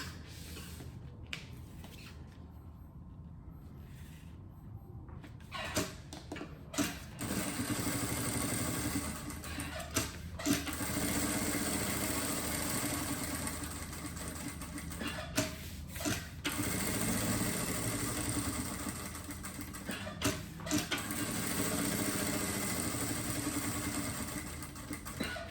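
Sewing machine stitching TNT non-woven interfacing onto synthetic fabric for a double toiletry case, running in a steady buzz with short pauses and restarts, close and moderately loud.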